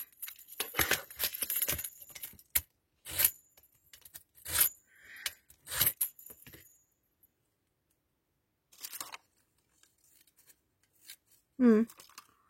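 Intermittent metallic clicks and snips of scissors being opened and handled, close up, with short quiet gaps and a louder clack near the end.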